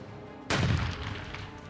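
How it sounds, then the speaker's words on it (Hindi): A single heavy blast from bombing and gunfire in Iraq during a military offensive, a sudden loud boom that rolls and decays over about a second, heard alone with no voices. "बमों के धमाके और मशीन गन से निकलने वाली हर गोली"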